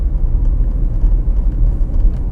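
A car in fourth gear on a busy market road gives a steady, loud low rumble of engine and road noise heard from inside the cabin, with no other distinct sounds standing out.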